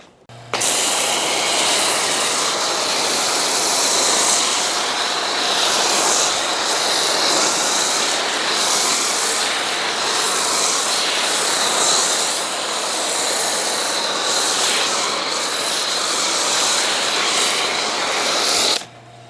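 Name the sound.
Earleas snow foam cannon spraying foam from pressure washer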